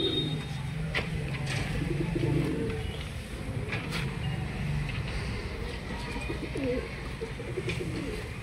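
Pigeons coo softly and repeatedly nearby, low rolling calls over a steady background hum, with occasional light clicks and rustles.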